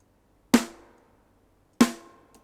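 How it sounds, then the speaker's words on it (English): Two clean, close hits of the Logic Pro acoustic snare drum sample D32, each with a sharp crack and a brief ringing tail, about a second and a quarter apart. "single drums, snares, acoustic snare,"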